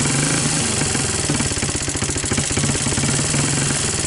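A Honda TRX200SX ATV engine runs on choke with a suspected intake manifold vacuum leak, giving a loud, close, continuous mechanical chatter at idle. The engine note wavers slightly and unevenly as it hunts under steady throttle, with no voices.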